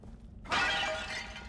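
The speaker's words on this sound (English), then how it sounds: "I'm smashing pots." A clay pot smashes in The Evil Within, one bright loud shatter after a quiet start, fading into crumbling debris over low game ambience.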